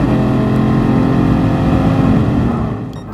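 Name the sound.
Ferrari engine in video game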